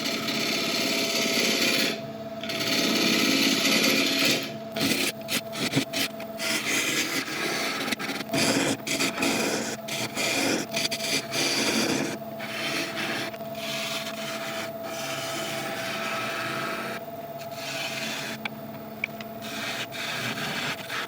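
Wood burl turning on a lathe, a tool rubbing and scraping against the spinning piece in an ongoing rasp broken by short pauses, with a steady motor hum beneath and no voices.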